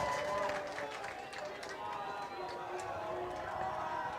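A dense, steady roar from a homecoming high school football crowd at Lakeland vs Ashland, cheering and clamoring before a kickoff, with commentators talking close over the noise.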